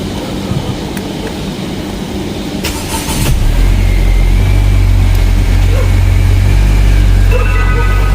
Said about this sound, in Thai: สตาร์ทรถ